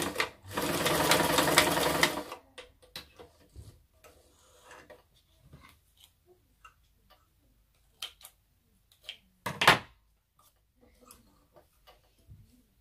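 Domestic sewing machine stitching a reusable fabric face mask: one fast, loud burst of stitching for about two seconds, then quiet handling clicks and taps of fabric and a short rustle.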